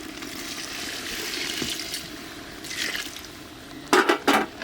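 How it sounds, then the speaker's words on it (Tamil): Water is poured into a simmering elephant foot yam curry gravy on the stove, giving a steady splashing pour that ends in a few louder, closer splashes. "தேவையான அளவு நம்ம தண்ணி ஊற்றிக்கிறோம்"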